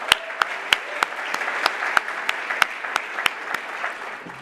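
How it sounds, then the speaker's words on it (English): A conference audience applauds, an even patter of many hands clapping at moderate volume, with a few sharper individual claps standing out through the steady wash. "Let's also give a round of applause to Tina and Amy for putting on a great conference for us."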